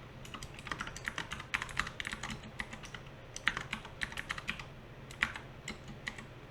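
Fingers type steadily on a computer keyboard, a quiet, close run of light key clicks in irregular bursts with short pauses, and no voices.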